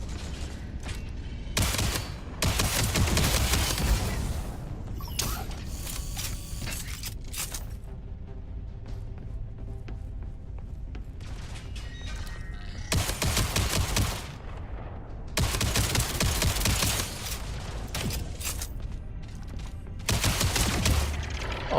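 Gunfire in the sci-fi video game Jump Space comes in several loud bursts of rapid shots, separated by quieter stretches of game ambience and mechanical noise.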